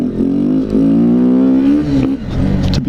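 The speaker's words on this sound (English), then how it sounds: "Some of you guys might notice the bike is a lot quieter. I put the stock exhaust back on it" A Kawasaki Z125 motorcycle with stock exhaust runs steadily nearby with a fairly subdued, mellow note, idling then rising slightly in pitch before settling with some mechanical clatter.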